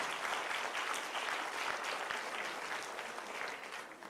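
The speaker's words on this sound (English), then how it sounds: "Can I have a round of applause for that SMS" Evening event audience giving a round of applause, a steady, fairly faint wash of many hands clapping that holds evenly throughout with no voices over it.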